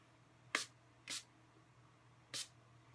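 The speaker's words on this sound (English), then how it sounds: "I'm assuming you just spray it on and it will dry." A bottle of e.l.f. makeup mist and set spray being pumped three times, short close hissing bursts with brief gaps, over a quiet background hum.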